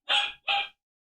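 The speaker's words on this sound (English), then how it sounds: "sorry about the barking" A dog gives two short barks in quick succession, fairly close and moderately loud, with quiet before and after.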